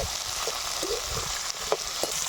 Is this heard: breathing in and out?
no